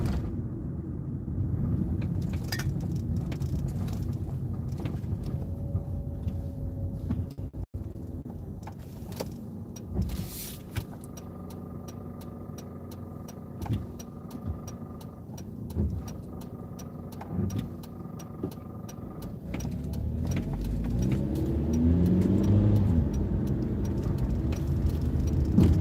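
A car drives steadily along a road, heard from inside the cabin as a continuous low engine and road rumble with small clicks and rattles, swelling slightly louder near the end.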